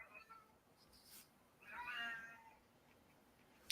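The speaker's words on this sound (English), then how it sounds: "Is that Blob meowing in the back" A cat meows faintly in the background of a quiet indoor room, one drawn-out call in the middle with a softer one before it.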